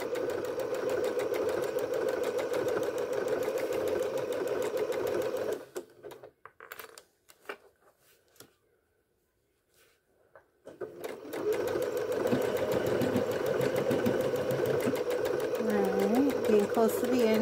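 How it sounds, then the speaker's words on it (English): Two home sewing machines run together, stitching steadily with a loud rhythmic whir that stops for a few seconds of near silence, then resumes at full pace; people talk over the machines. "We're home sewing, both on a machine, and each working on a project."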